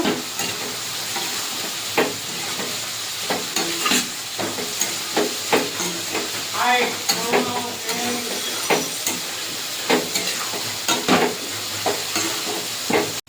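Banana flower stir-fried with ground coriander and chili powder in a pan, a steady close sizzle broken by repeated scraping and clattering stirs throughout.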